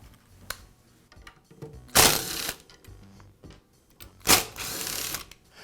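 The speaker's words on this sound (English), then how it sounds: "I'll begin by removing the motor cap." Motor cap being removed from a DeWALT chop saw during a brush replacement, heard as close, faint mechanical clicks and ratcheting with two louder scraping bursts of plastic and metal.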